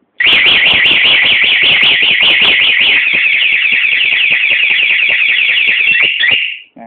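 The anti-theft alarm on a Honda PCX scooter blares a loud, close, warbling electronic siren that rises and falls rapidly for about six seconds, then cuts off, followed by a brief faint chirp.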